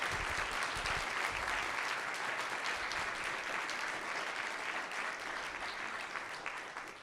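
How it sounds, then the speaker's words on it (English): An audience at an inaugural professorial lecture applauds, giving dense, sustained clapping that continues steadily and fades slightly toward the end. "I'd be clapping loudly now."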